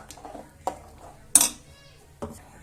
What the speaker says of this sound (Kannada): ಕಾಯಿ ಹಾಕೊಂಡು ಇದನ್ನ ಕ್ಲೀನಾಗಿ ಮಿಕ್ಸ್ ಮಾಡ್ಕೋಬೇಕು.